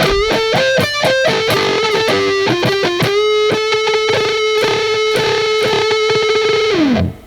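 Distorted electric guitar plays a lead solo line, with rapid picked notes and bends that settle into a long sustained note ending in a downward slide, loud and alone.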